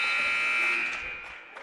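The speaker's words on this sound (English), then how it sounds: "Here's Lytle at the buzzer." Electronic buzzer ending a quarter at a high school boys basketball game in a gym, a single loud sustained tone that holds for about a second before fading under crowd noise.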